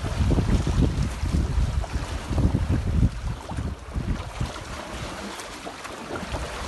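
A Libertist 703 sailboat glides at 5-6 knots in light wind, with water rushing and sloshing along the hull under gusty wind buffeting the microphone, louder at first and then settling into a softer wash.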